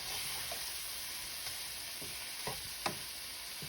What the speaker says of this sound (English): And we're just gonna let this shrimp cook.